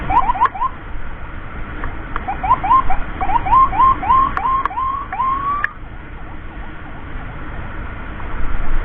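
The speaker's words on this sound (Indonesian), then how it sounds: "Mohon izin, ambulans emergensi." An ambulance siren yelps in quick repeating sweeps for several seconds, then fades out, leaving steady traffic rumble.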